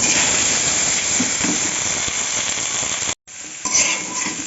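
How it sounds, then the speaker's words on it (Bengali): Pointed gourd lightly frying in a pan gives a loud, continuous close sizzle and hiss, broken by a brief cut before the frying resumes with some stirring. "আমি পটলটাকে হালকা ভেজে নেব"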